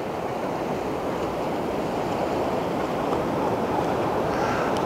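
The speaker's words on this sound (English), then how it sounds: "You can see over there the waves, well, they're breaking out to sea, and some of those waves are quite large." Sea surf rolls at the far eastern end of the seafront at Whitby, North Yorkshire, as a steady, broad wash of breaking waves with wind noise mixed in.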